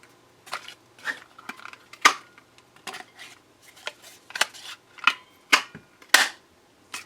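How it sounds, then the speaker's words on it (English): Paper flower shape being punched and cut out for a stamped craft project, giving a series of sharp snipping clicks in an uneven rhythm, close and fairly quiet, with no talking. "Punch and cut out the flower."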